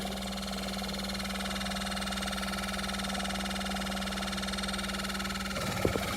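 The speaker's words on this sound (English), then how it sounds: "So it sounds like there's air coming through at the minute." A van engine idles with a steady, loud drone while air pushes through the hot water calorifier pipes, ending in a few brief knocks.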